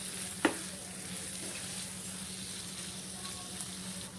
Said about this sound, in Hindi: अब इसमें हम डालेंगे ये फ्राई की हुई प्याज, इसको मिक्स कर देंगे प्याज को हम।